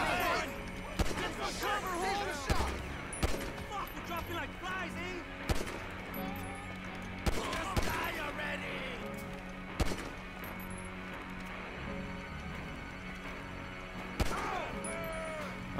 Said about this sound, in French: J'ai tiré plusieurs balles déjà qui n'ont servi strictement à rien